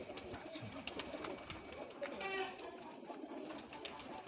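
Flock of high-flying pigeons cooing in a loft in Chishtian, soft repeated coos and rustles over a steady background with voices talking nearby.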